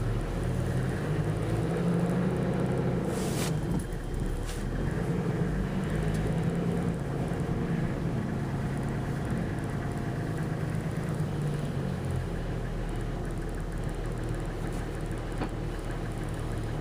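A 2012 Toyota Coaster bus driving with a steady, loud low engine rumble throughout, a brief sharp click near the start, and only faint traces of voices inside the cabin.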